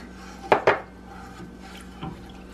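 A spoon scrapes through homemade chicken Alfredo sauce, seasoned with pink Himalayan salt and black pepper, in a pan: two quick close clinking scrapes, then a softer one, with no voices.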